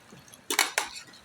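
Two quick ceramic clinks of a plate and cutlery being set down sound close by in a quiet room.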